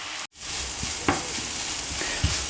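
Apples sizzling and caramelizing in a frying pan over medium heat, a steady close hiss of frying with occasional stirring clicks from a utensil and no voices.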